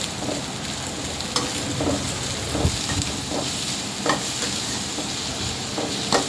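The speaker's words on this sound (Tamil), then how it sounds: "லாஸ்ட்டாக நம்ம கேபேஜ் சேர்த்து வதக்கி விட்டுக்கலாம்." Cabbage and mixed vegetables for fried rice are stir-fried in a pan, giving a loud, steady sizzle with occasional scraping stirs and spatters, and no one speaking.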